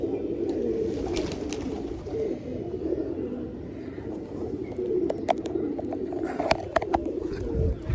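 Pigeons coo steadily and close by, their low rolling calls layered over one another through the whole stretch, with a few sharp chirps and clicks breaking in near the end.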